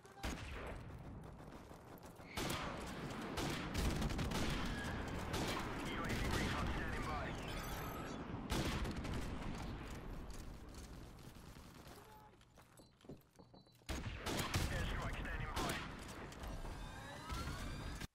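Call of Duty Modern Warfare Remastered match with loud, dense bursts of rapid gunfire and explosive in-game action filling most of the stretch, pausing briefly before more shooting resumes.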